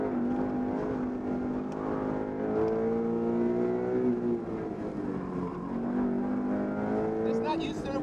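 A prepped 2013 Subaru BRZ autocross car accelerating under power, its engine note rising and falling in steady tonal sweeps from inside the cabin, with a voice talking over it.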